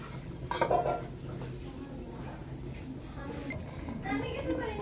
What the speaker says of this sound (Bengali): এই অবস্থায় আমি একটু ঢেকে দেব।